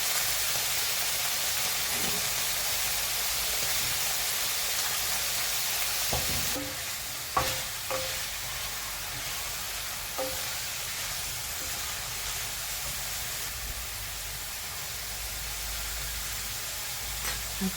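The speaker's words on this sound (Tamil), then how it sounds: "இந்த காலிஃப்ளவர் ப்ரொக்கோலி ஃப்ரை பண்ணுறதுக்கு அதுலேயும் கொஞ்சம் சால்ட்டும் மஞ்சள் பொடி" Cauliflower and broccoli fry in a pan with salt and turmeric, giving a quiet, continuous sizzle with a few sharp stirring clinks partway through.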